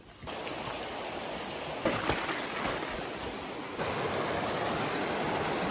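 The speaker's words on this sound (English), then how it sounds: "So this is called Tusuru River." The Tusuru River flows through the Tusuru Valley in Nagaland, a continuous rushing roar of fast water that holds steady and full, with slight swells in loudness and no voices.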